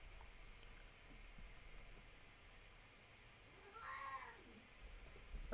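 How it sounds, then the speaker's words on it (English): House cat meowing, one drawn-out, rising and falling meow heard faintly in a quiet room with low background hum, no talking. "My cat's meowing at me."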